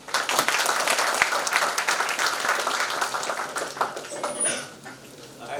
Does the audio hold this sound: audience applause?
yes